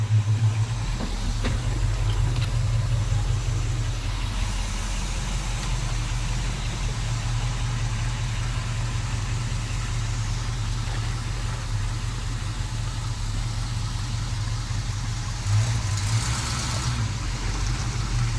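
A 1955 Chevy's engine rumbles steadily while the car is driven home, low and loud from inside the cabin, with no one speaking.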